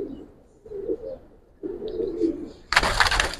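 Giribaz pigeons coo in low, rolling bursts at a loft, several phrases spaced across the moment before a sudden loud broadband rustle, likely wings or handling, takes over at the end.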